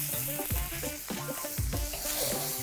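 Pineapple pieces stir-fried in a hot wok for charring, giving a loud continuous sizzle with repeated scraping tosses of the food at a steady rhythm.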